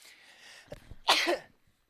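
A single close sneeze with a brief sharp intake before it and a loud burst that fades quickly, heard in a quiet indoor setting.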